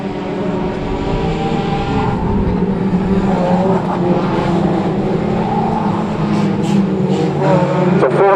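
Micro banger cars racing around the Cowdenbeath Racewall oval, a steady dense engine roar from several cars at once, loud and continuous throughout with no pauses.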